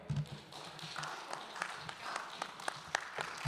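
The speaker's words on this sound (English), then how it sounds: "Give AB a round of applause." Scattered applause and claps from a press-conference audience for AB ahead of a Broner vs Cobbs boxing bout, thin and somewhat distant, with irregular sharp claps over a murmuring room.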